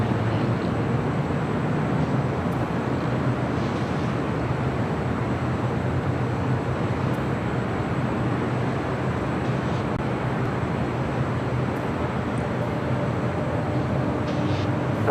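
An airliner at LAX on the runway for takeoff, a constant loud, broad jet roar that holds steady throughout, with no voices.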